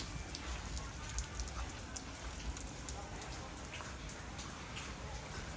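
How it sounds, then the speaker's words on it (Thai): Light rain falls steadily outdoors as a constant soft hiss with faint scattered drop taps, and a voice murmurs quietly in the background. "ฝนนิดนึง"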